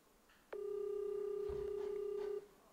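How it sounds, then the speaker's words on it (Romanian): A telephone rings on an outgoing call: a single steady ringback tone sounds for about two seconds against a quiet background, with no talking. "Telefonul sună."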